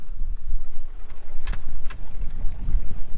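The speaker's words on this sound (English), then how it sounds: "So wind was getting up there" Wind gusts hard across a sailboat at sea, roaring against the microphone over low water wash and creaking hull noise, with a couple of sharp knocks midway and no one speaking.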